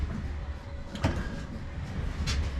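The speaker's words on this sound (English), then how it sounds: "Right, so pocket door kit's installed." A newly installed pocket door rolls along its track with a short sliding rumble and a couple of light knocks, moderately quiet and near, over faint background noise.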